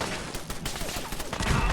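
Gunfire in the video game Fallout 4 crackles as a quick, dense volley of shots, moderately loud over a background of game sound.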